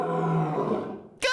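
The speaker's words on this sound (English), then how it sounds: "It's a lion." A lion roars once, a loud, close, rumbling roar lasting about a second that fades out, followed by the onset of a voice.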